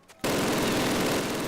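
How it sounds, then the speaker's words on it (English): Sustained burst of MG42 German machine gun fire in Call of Duty, a loud, continuous rapid stream of shots that starts abruptly after a brief quiet moment and holds steady throughout. "And that is a MG42, famous German machine gun."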